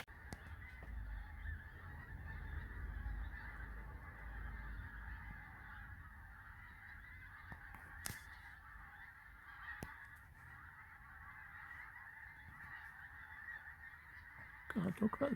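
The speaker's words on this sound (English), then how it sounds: "look at the birds flying south" A flock of geese flies south overhead, honking steadily in a continuous chorus of calls at moderate distance over a quiet garden.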